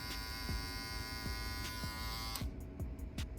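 Electric barber hair clippers run with a steady buzzing hum, close and continuous, with a few small clicks and a shift in tone near the end.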